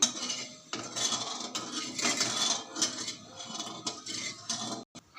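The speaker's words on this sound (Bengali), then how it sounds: "জল দিয়ে একটু নাড়িয়ে দেব" Papaya chutney stirred in a metal pan just after water is added, with a spoon clinking and scraping the pan in a busy, uneven rhythm, close up and with no voices.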